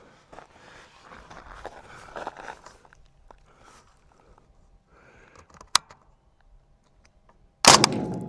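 A single loud, sharp gunshot from a P90 with a 10-inch barrel rings out near the end, fired outdoors at a Cybertruck target, following several seconds of quieter shuffling and handling noises with one small click.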